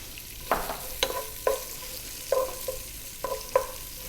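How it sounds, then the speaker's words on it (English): A cup of onions frying in a soup pot, stirred in roughly six distinct scraping strokes over a continuous soft sizzle, close by and without talk. "We're now going to drop in 1 cup of onions."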